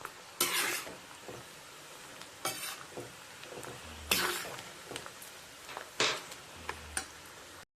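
Prawns fry in a pan for pickle under a faint, low sizzle, broken by several sharp scraping bursts as a spoon stirs against the pan.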